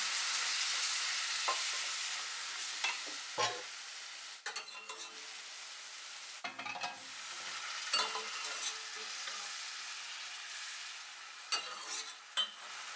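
Mushroom broth made from dried mushrooms is stirred into a thickening sauce in a hot pan, with a continuous soft sizzle broken by intermittent scraping and clattering stirs, no talking.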